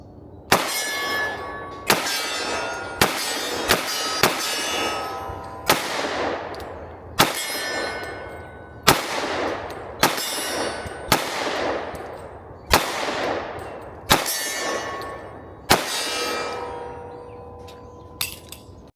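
Pistol rounds from an HK P30 V3 ring off steel plinking targets in a series of about a dozen sharp metallic clangs, each trailing a bright ringing decay, spaced irregularly and loud at close range.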